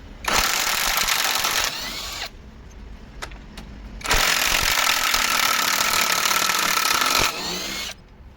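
Grosser cordless impact wrench hammers loudly at a bolt in two long bursts separated by a quieter pause with a few clicks, a harsh rattling drone close to the listener.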